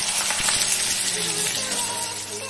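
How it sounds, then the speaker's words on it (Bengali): Chopped potatoes drop into hot oil already crackling with fried whole cinnamon, cardamom and cumin, producing a loud, steady sizzle that fills the short stretch without pause. "ফোড়নগুলো খুব ভালো করে ভাজা হয়ে যাওয়ার পর ওই তেলেই কুচনো আলুগুলো ছেড়ে দিলাম।"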